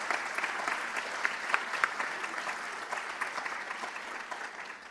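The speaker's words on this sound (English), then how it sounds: "give yourselves a round of applause for supporting music" Steady applause from a concert audience at a show, many hands clapping evenly for five seconds at moderate volume with no voices on top.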